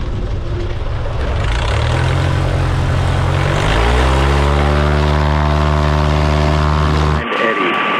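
A racing airplane's propeller engine drones steadily in flight, loud and close, its pitch climbing as the throttle rises before cutting off abruptly near the end.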